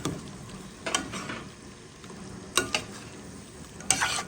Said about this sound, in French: Je veux mettre ces jolies crevettes que j'ai mis dans l'huile chaude tout à l'heure dans les tomates.